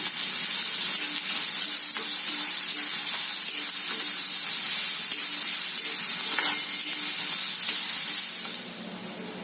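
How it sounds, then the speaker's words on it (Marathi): Onion sautéing in hot oil with asafoetida while cooking bitter gourd vegetable, a steady close hiss and sizzle with occasional light stirring knocks, continuous until it drops off near the end, no talking. "आता वरून कांदा घालूया आणि तो चांगला भाजून घेऊयात, नरम होऊ देऊयात आपण."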